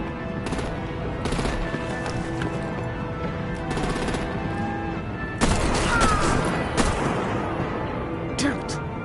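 Dense, loud gunfire and artillery blasts from the Batman: The Enemy Within Telltale game, with steady rattling bursts over a rumbling backdrop that swells louder midway, while voices speak over it.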